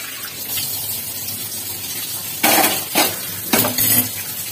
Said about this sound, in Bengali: কড়াইটাকে একটু ঠান্ডা করে নিই, জল দিয়ে আগে ধুয়ে আগে ঠান্ডাটা করে নিচ্ছি কড়াইটা